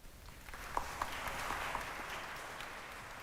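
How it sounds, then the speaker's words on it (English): A graduation audience at a medical school ceremony applauds with soft, fairly distant clapping, a few sharper claps standing out early before settling into a steady patter. "please give a round of applause to them"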